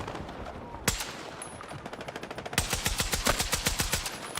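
DMR gunfire in Battlefield 6, a sharp opening shot followed by a rapid, regular string of cracks that grows louder and denser midway, sounding close with no talk over it.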